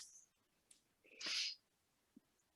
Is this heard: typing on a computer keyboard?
no